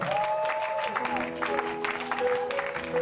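A church congregation applauding and cheering the Holy Spirit during a worship service, with steady clapping under sustained organ-like tones and voices, close and fairly loud.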